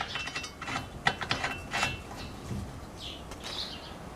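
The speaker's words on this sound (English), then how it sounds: "I just turned down the nut with the adjustable pliers, or adjustable wrench, until it wouldn't move" Adjustable wrench turning down a big nylock nut and washer on a Gorilla Carts GCG-4 poly dump cart during assembly, giving a few close, quiet metallic clicks and scrapes in irregular bursts with no talking.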